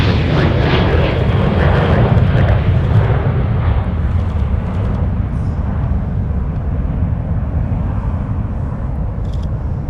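An American Airlines jet bound for Dallas-Fort Worth departs Minneapolis-St. Paul airport, its engines producing a loud, continuous, broadband roar that holds steady for the full ten seconds and eases only slightly toward the end.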